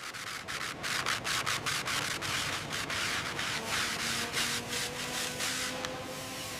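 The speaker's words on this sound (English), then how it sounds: "Yes, I'm almost done with the sanding here" Rhythmic back-and-forth sanding strokes rasp against a Mercedes G-Wagon body panel, close and steady, repeating quickly without pause.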